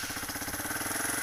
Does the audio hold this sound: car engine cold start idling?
yes